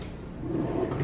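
A hotel room drawer at a lodge slides open or shut once, a soft, low rumbling scrape lasting about a second at close range, with no voices over it.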